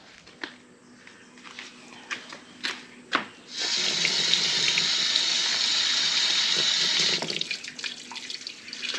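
Water runs steadily from the tap of a Genki outdoor garden sink for a few seconds. A few clicks and knocks come just before it turns on, and the flow eases off at the end.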